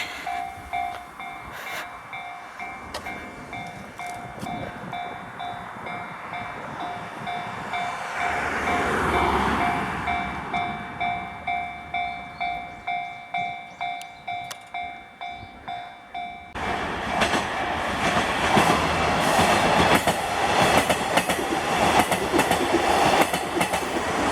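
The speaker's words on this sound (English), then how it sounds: "train's coming." A train in rural Japan approaches and passes close by, its rhythmic clickety-clack of wheels over rail joints growing louder, then a roaring rush of cars as it goes past at full volume.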